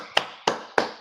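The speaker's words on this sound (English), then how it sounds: "Clap it up." Three sharp claps ring out one at a time, evenly spaced about a third of a second apart, each a crisp close slap with a quick fade, the rhythmic applause of a class told to clap it up.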